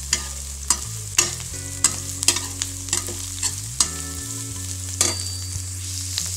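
Cabbage tossed into softened, frying onions for a South Indian cabbage stir-fry, a spoon scraping the pan in a run of sharp clacks over a steady sizzle, close and fairly loud, with a low hum beneath.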